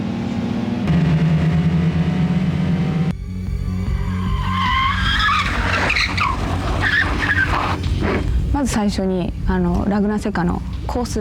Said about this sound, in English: The cars will be able to skid around.